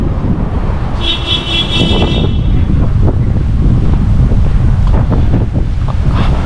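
Strong wind blasts across Sabina Park cricket stadium in Kingston, Jamaica, a loud continuous roar with heavy buffeting on the microphone throughout and no voices.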